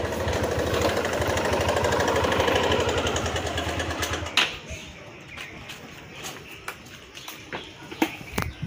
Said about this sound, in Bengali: ওই যে সনর বাবা বাইক